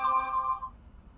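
A short electronic chime rings out, a bright tonal notification lasting about half a second before fading into quiet room noise.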